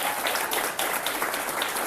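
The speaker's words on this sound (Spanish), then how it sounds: "¡Un aplauso para Pilar!" Classroom applause during a lecture, dense and steady clapping from many students that fills the room evenly and stays fairly loud throughout.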